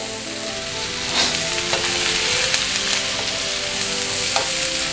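Onion frying in about 100 grams of butter with a pinch of salt, a steady close sizzle with occasional stirring scrapes, no talking.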